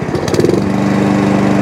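Mountfield lawn mower engine fitted with a Chinese copy carburetor idling close by, a loud steady rapid putter with a brief rougher burst at the start.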